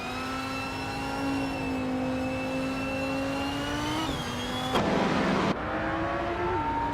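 Race car engines in a racing video game, a sustained high whine of several cars that shifts pitch as they overtake, with a brief burst of harsher roar near the end, loud and continuous with no talking.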